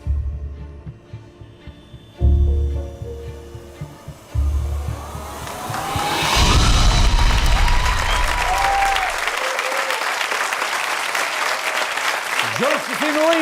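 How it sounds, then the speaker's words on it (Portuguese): Applause and cheering from a TV studio audience on a magic show, starting as broad crowd noise and swelling into sustained loud clapping, following a stretch of other studio sound with low hum. "poderão finalmente receber o seu merecido aplauso."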